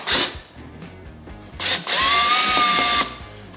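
A power drill removes a screw from the fairing of a Harley Davidson Street Glide Ultra, with short whirring bursts followed by a longer, steady high whine, close and loud, with no talk.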